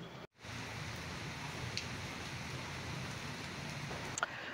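Steady rain hiss fills the scene, even and unbroken, with a brief dropout near the start and a couple of faint ticks later.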